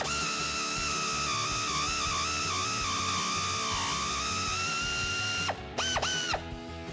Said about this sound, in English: I have that 15 mil deep socket on my air ratchet